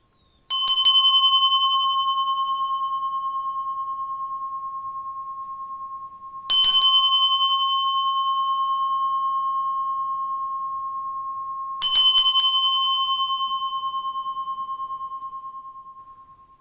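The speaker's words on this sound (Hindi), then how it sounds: "आप इस तरह की एक प्यारी सी घंटी भी खरीद सकते हैं, जो देखने में बहुत ही ज्यादा खूबसूरत है और बजती भी कमाल की है" A small, pretty decorative bell rings three times at even intervals, each clear metallic strike leaving a long, pure sustained tone that slowly fades, with nothing else heard.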